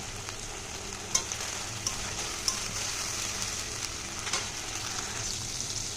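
Spices with salt and turmeric being fried and stirred in a pan, a continuous close sizzle with a few sharp clinks of a utensil against the pan, no voices.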